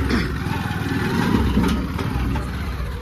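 Motorcycle-towed trolley engine revving, a close, rough mid-pitched engine note that holds steady with slight rises, with no talk over it.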